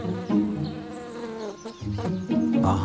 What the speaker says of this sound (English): A hungry Chinese honeybee smells the strong aroma of the flowers.